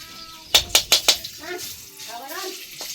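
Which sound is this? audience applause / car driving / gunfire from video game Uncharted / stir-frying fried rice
stir-frying fried rice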